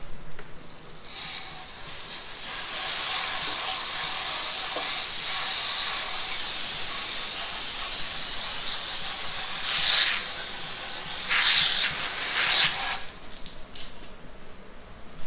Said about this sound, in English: let's grab the hose and we're just gonna spray a little bit of that down